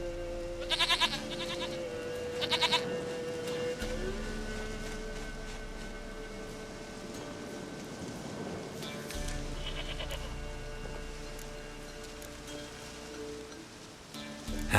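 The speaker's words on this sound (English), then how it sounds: "Goat of mine, dearest, sweetest goat." In The Witcher 3: Wild Hunt, goats bleat in short, sharp bursts at the start and again later, over a light rain-like backdrop, with no voices.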